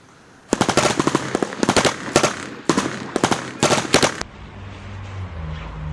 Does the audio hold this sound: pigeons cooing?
no